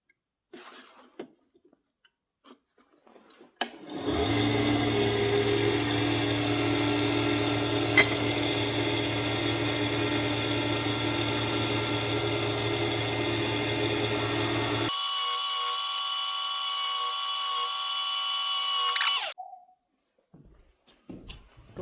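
A small drill bores out a Swiss Army knife part to 1.5, a steady close whine that starts abruptly, holds for about eleven seconds, then shifts higher in pitch before stopping.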